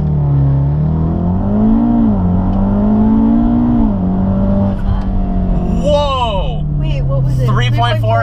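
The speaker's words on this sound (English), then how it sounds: "Left foot all the way on the brake, right foot all the way on the gas." A Volkswagen launching hard for a 0-60 run, with a loud, close engine note that climbs steadily in pitch through the gears over about eight seconds and a few brief whines toward the end.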